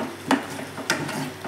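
Masala frying in a pan and being stirred, a steady sizzle broken by three scraping strokes of the spoon against the pan, close and with no voices.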